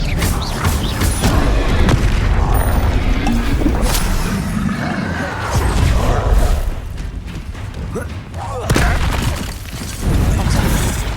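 Expelliarmus, the disarming spell, cast during a duel in the video game Hogwarts Legacy. Loud, dense bursts of magical booms, crackling impacts and shattering effects come in rapid overlapping waves, briefly dipping before surging again.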